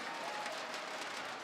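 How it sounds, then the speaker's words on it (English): Arena crowd at a CS:GO third-place match between FaZe and Liquid on Inferno, a dense, distant wash of applause and cheering that holds steady throughout. "Yeah, the crowd is loving it."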